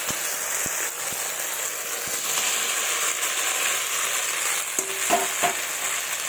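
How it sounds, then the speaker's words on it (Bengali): Potatoes and spinach stalks stir-fried in a spice paste that has cooked down until the oil separates, giving a steady close sizzle with a few spatula scrapes and knocks near the end. "দিয়ে ভালোভাবে আরেকটু নাড়াচাড়া করে কষিয়ে নেব"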